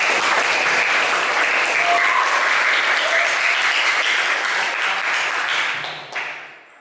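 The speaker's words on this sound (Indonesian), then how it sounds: "Tepuk tangan oleh kepada Pak Hasto." Sustained applause from students for a teacher in a junior high school classroom, a loud continuous patter of many hands lasting about six seconds before tapering off near the end.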